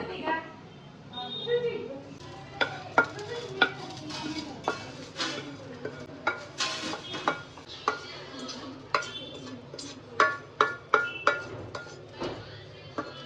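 Spatula scraping fried Mangalorean chicken sukka out of a pan onto a plate, a string of sharp metallic clinks and scrapes, close and irregular, with speech in the room around them.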